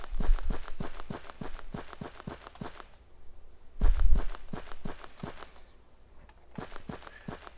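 Character footsteps in an Unreal Engine 4 game, crisp evenly spaced steps that shift from a quick run-like pace to slower walking, with brief pauses and a heavier thump midway, close and clean with no talking.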